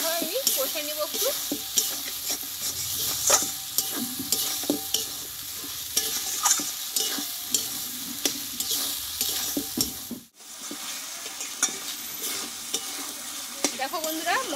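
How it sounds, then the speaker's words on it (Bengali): A spice mix frying and being stirred in a pan, giving a continuous crackling sizzle with repeated spatula scrapes and clicks, close by, briefly dropping out near the end before resuming. "এই মশলাটাকে ভালোভাবে আমি কষে নেব একটু।"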